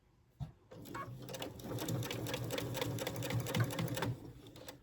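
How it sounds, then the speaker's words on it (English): A sewing machine stitches through a dog collar strap near a D-ring, a steady rapid needle rattle running for several seconds after a brief knock, fairly close and moderately loud, with no talking. "We're going to sew right in between these two parts."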